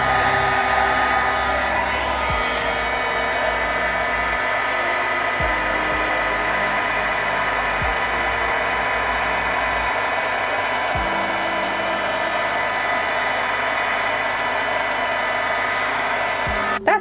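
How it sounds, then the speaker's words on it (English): A heat tool blows steadily on resin coasters made with shrink film, a loud continuous whooshing hum that runs unbroken for the full stretch. "I will take my heat tool."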